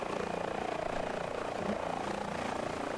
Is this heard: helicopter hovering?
yes